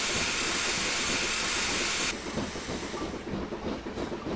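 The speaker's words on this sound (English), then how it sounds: "Here comes another train." A train rolls past on the main line in Train Simulator 2018, a dense steady rumble and hiss that changes abruptly partway through, loud and continuous with no voices.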